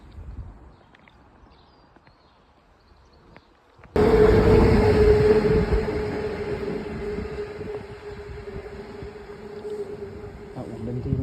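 A train runs straight through a station without stopping, arriving abruptly as a loud, close roar with a sustained metallic squeal and rumble that holds steady after a quieter, murmuring platform ambience.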